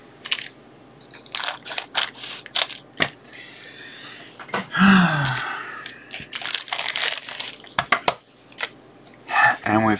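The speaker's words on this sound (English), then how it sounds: "it's sealed, so we'll cut that open" The sealed plastic pouch of an Ampcom automatic network cable tester is being cut open with scissors. Crisp snips and crinkling plastic come in close, irregular bursts, mixed with handling clicks and rustles.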